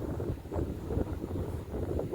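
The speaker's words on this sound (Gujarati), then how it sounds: "પવન છે ને બહુ મસ્તીનો, આપણે મનમોહક હોય, આપણા મન હરી લે એવો પવન." Wind blowing across an open fennel field, a steady low rumbling gust noise buffeting close against the microphone throughout, with no voices.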